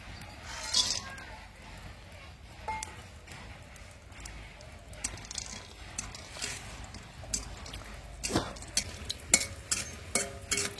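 Lentil bori (dal bori) fried light red in oil in a wok (kadai) for a jute-leaf curry, heard as a low crackle with repeated scraping stirs and utensil clinks, moderately close with no talk.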